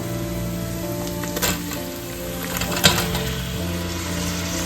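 Sliced onions sizzle as they sauté in a pan for a Kerala-style soya chunks dry fry, a steady low frying hiss with a few louder bursts of stirring over a faint background hum.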